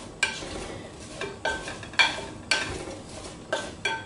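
A spoon stirs vanilla into berries and apples for pie filling in a bowl, making several scraping, clinking strokes at an uneven pace, close and moderately loud, with no talk.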